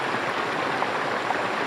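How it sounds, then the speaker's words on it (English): Small creek running over stones on a wild stretch of coast, a steady close wash of burbling water with no break across the short stretch. "There's a little bit of a creek here. I can see further up it's running"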